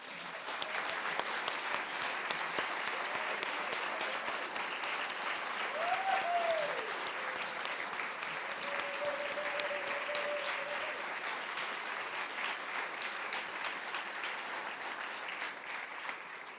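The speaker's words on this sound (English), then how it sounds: "Now let's give them all a round of applause." Audience at a suffrage celebration at the National Press Club giving a long round of applause, a sustained, even roar of many hands with a few faint voices calling out beneath it.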